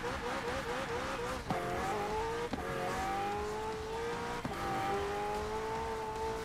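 LEGO Speed Champions McLaren Senna racing in Forza Horizon 4, engine revving with rising pitch sweeps and gear-shift drops, brief tire-squeal accents, continuous and loud, no talk.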